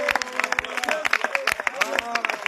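A congregation at a prayer service in Grand-Bassam claps and cheers in quick, uneven bursts, with voices mixed into the applause throughout.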